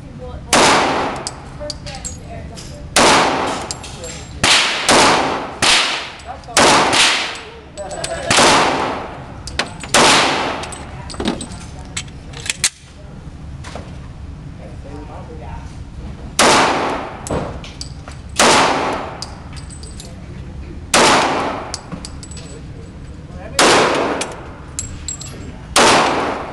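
A handgun being drawn, fired and reloaded, heard as a long series of loud, sharp bangs spaced irregularly throughout, with metallic clanks and handling noise between the shots and no speech.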